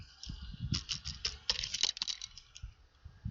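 Fast clicking keystrokes on a computer keyboard, close and fairly quiet, in an uneven rapid patter with no voices.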